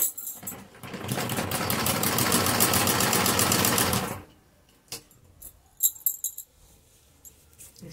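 Sewing machine stitching a fabric seam along an edge of a palazzo pant, a loud rapid mechanical whirring burst for about three seconds, then stopping, followed by quiet handling clicks and rustles.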